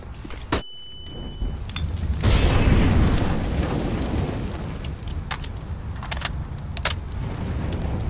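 Bomb explosion in a Counter-Strike style video game: a sharp click and crack, then a deep, loud boom that swells and rumbles for several seconds before fading into scattered pops and crackles, with no talking.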